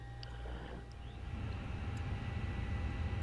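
Fenix A320 airliner systems spooling up on external power inside a flight simulator cockpit, a steady low rumbling hum with a faint whine that grows slightly louder and fuller after the first second, continuous with no talking.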